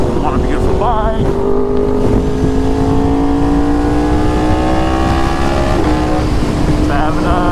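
Yamaha R1 sport motorcycle ridden on the road in Houston, with a steady, loud engine drone that rises and shifts in pitch under constant wind rush.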